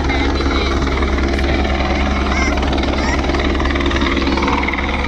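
Helicopter flying over a helicopter show in the Czech Republic, its rotor and engine roar loud, steady and close throughout with no pause.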